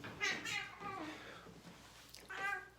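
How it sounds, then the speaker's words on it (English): A domestic cat meows several times close to the microphone, drawn-out and plaintive, with a clear meow at the start and another near the end over quiet room noise. "I got Buford the cat right here."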